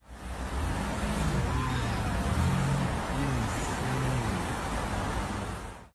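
Loud cars pass near a city street where an eagle perches, a constant broad roar of road noise with faint engine drones rising and falling, no voices.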